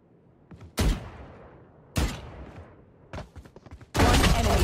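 Shotgun fire in the video game Valorant: a few loud, sharp blasts spaced about a second apart, each with a quick decaying tail, the last one heavier and more sustained, with no voices.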